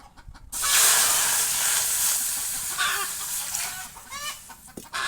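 Water poured into a hot kadai on a clay stove, ready for cooking lentils with spinach, bursts into a loud, steady hiss that fades gradually, while chickens cluck nearby.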